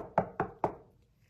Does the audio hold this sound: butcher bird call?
no